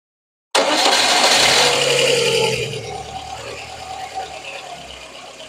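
A Lada Kalina car engine turns over and catches with a loud burst, then drops to an uneven, rough, misfiring idle.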